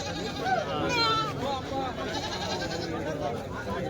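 Goat kids bleating at a busy village goat market in Dhule, several short cries rising over dense crowd chatter and background noise.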